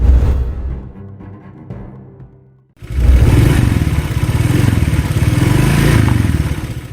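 Red Honda PCX scooter riding, a quieter engine hum at first, then a sudden louder, continuous engine drone with rumble and clatter, steady and close.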